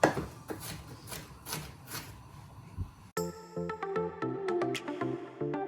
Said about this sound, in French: Je vais couper un oignon rose et je vais le faire revenir dans la cocotte